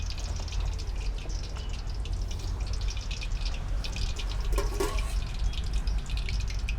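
A little water is poured into maida and cornflour batter for fish fry, making a continuous close trickle and splash with some small drips and no talking.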